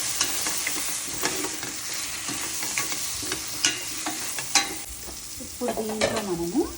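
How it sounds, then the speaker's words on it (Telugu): Chili powder and coriander powder are stirred in hot oil in a pan, giving a steady close sizzle and frying crackle with repeated scraping strokes of the spoon throughout. "అలాగే ధనియాల పొడి వేసేసి కలిపేస్తాం"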